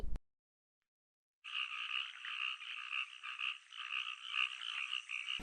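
A small frog croaks in a dense, rapid, continuous chorus of raspy calls after a brief silence, steady and fairly close, with no voices.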